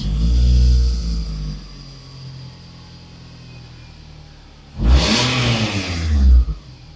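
A car engine, with an OBD scan tool hooked up, cranks and catches in a loud burst near the five-second mark and revs briefly before settling; a steady engine idle rumbles earlier.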